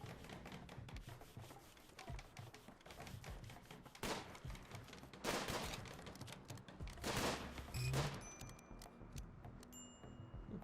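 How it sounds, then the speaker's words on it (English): Gunfire in the video game Rimworld rattles out in repeated rapid bursts of shots, a steady crackling fusillade with sharp louder volleys and no talk over it. "I want to just pop out here real quick and take some pot shots."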